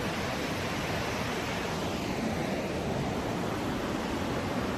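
A waterfall on an Umpqua hike, heard from a bridge, gives a steady broadband rush of water that stays even and unbroken, moderately loud and somewhat distant.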